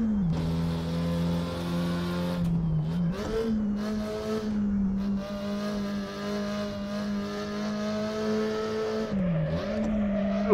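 A Porsche 356 Coupé lapping a track and drifting, its engine holding a steady, close, loud drone with brief dips and rises in revs as it slides through corners.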